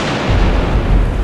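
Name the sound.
special effect explosion with primer cord on film set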